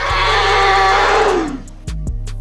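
Growl of a Pachycephalosaurus in the video game Dinosaur Simulator, a loud drawn-out roar with a gliding pitch that drops away after about a second and a half, followed by two short low grunts, with no voices.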